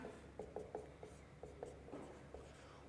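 Chalk or marker strokes on a board in a math lecture, a series of short scratchy taps and scrapes in an irregular rhythm, fairly quiet and close, with no talking.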